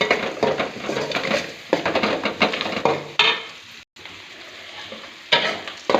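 Sliced eggplant with onions, turmeric and salt frying in a pan, sizzling loudly with stirring scrapes and brief pauses, one short drop to near silence partway through.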